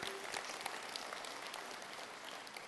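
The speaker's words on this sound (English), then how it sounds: "Let me have a round of applause, please." Steady applause from an audience at an Air Force Reserve Command keynote at a convention, a dense continuous patter of many hands at moderate distance, without any talk over it.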